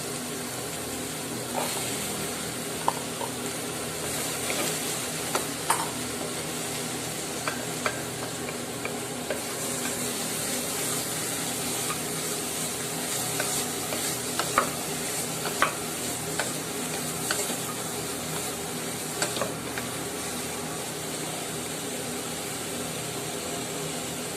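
Vegetables including beetroot stirred in a cooking pot for South Indian soup, a continuous sizzling and scraping stir with occasional clinks, steady and close, no talking.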